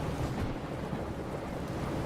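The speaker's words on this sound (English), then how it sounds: "I just heard a crack of thunder then." Thunder crack and rumble during a storm in the train simulator game Derail Valley, a loud, dense, continuous low roar filling the whole stretch with no talk over it.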